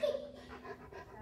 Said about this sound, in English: And they have a puppy or a big doggy.